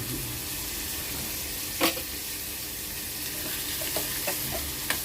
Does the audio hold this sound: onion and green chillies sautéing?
yes